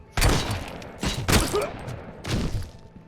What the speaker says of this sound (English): I'm gonna switch to this. 50 caliber pistol right here.